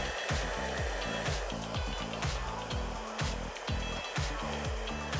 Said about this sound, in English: we're going to use a nozzle on the blow dryer